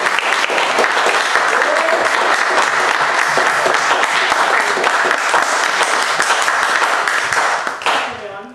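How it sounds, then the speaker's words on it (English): Sustained loud applause from an audience at a Toastmasters club meeting, dense steady clapping that holds for several seconds and then tapers off near the end. "Let's give a very big applause."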